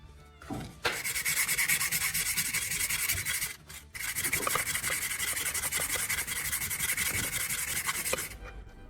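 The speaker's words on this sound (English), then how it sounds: "I use sandpaper to scrub the blade, working along the length, not across it." Sandpaper scrubbing rust and old buildup off a chisel blade, worked along its length: loud, close, continuous gritty rasping in two long runs separated by a brief pause, with no talk.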